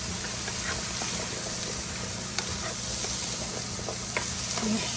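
Chicken sizzles steadily in a hot pan for teriyaki, a continuous close frying hiss with small pops and crackles scattered throughout.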